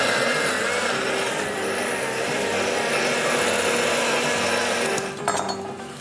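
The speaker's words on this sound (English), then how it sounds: "Let's give this a whirl in the blender." A blender purées tomatillos, onion, garlic, chilies and lime juice into salsa, a loud, steady whirring motor roar that runs without a break before cutting down, with a short clatter at the end.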